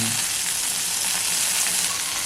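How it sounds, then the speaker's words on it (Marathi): Drumstick pods sizzle and fry in a small amount of hot oil with spices, a steady close hiss of crackling bubbles filling the whole stretch without pause. "थोडं थोडं असं तेलामध्ये आवाज येतो ना"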